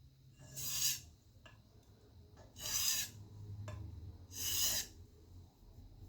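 A chef's knife is ground and sharpened on a stone in three slow, rasping strokes about two seconds apart, each a close, gritty scrape with quiet pauses and light handling noise between them.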